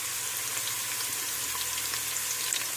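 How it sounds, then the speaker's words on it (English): Garlic and red onions sizzle in a hot pan for Filipino mung bean soup, a steady close hiss of frying with faint crackles and pops throughout, no voices over it. "Now that it is sizzling right now,"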